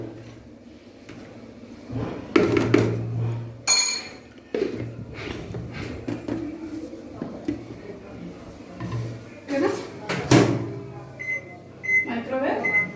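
A Samsung microwave oven hums steadily while cooking a zero-oil stuffed brinjal curry. Dish and glass clinks interrupt the drone, and a person talks over it.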